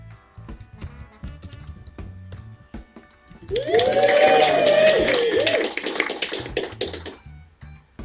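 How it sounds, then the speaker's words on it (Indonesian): A canned applause sound effect plays in a Scratch quiz game when an answer is correct. It gives a bright burst of clapping for about three and a half seconds that fades back to quieter sounds. "itu tadi kalau jawaban benar dia menampilkan tepuk tangan"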